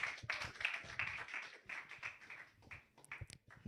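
Audience clapping at a capstone personal presentation event: a faint, dense patter of many hands, fairly steady for a few seconds and then thinning into scattered claps.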